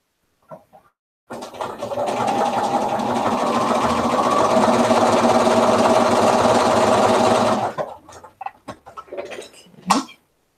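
A sewing machine runs steadily for about six seconds while chain piecing house-themed quilt blocks, a continuous near mechanical whir between brief handling clicks and taps before and after.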